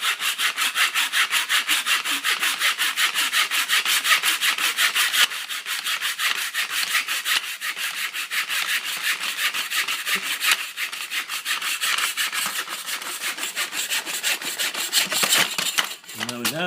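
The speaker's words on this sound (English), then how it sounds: "if you're using a mitre saw, always make sure you're cutting at the right angle" A mitre saw cuts through wood at a 45-degree angle, a loud continuous rasping saw tone running steadily for most of the stretch before a brief stop near the end.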